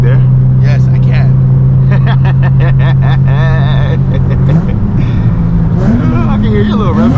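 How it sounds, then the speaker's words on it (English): Loud sports car engine, a Nissan Z, droning steadily with quick rising rev blips as the driver matches revs on downshifts, heard from inside the car; people talk over it throughout. "I can hear your little rev matches too"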